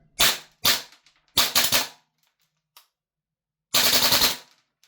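A Ghetto Blaster gun fires while fed from a Strike Industries magazine, loud and close, with three quick short bursts early on, a faint click, then a final longer rattling burst of rapid shots.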